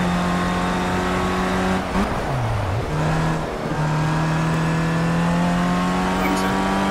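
A race car engine in the Project Cars video game on Xbox One wails at high revs, dipping sharply through a corner with downshifts before climbing again, loud and continuous.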